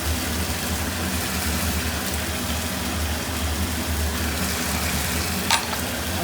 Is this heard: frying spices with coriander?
yes